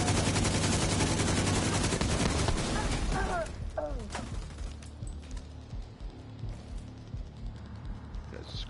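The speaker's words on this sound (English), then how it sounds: "Under heavy fire!" Heavy gunfire in The Division 2 roars as a dense, loud barrage of rapid shots for about three seconds, then thins to scattered distant pops and rumble while voices talk briefly over it.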